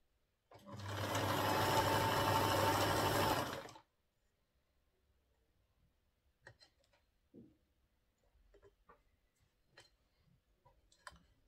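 A sewing machine stitches hair onto a wig cap in one loud, steady burst of about three seconds, followed by quiet scattered clicks and small handling sounds.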